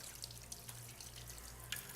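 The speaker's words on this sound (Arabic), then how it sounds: "اهو انا بغسله تحت ميه جاريه زي ما انتم شايفين كده" Tap water runs steadily while shrimp are washed under it, a soft continuous splashing with a few small clinks and drips, quiet and close, with no voices.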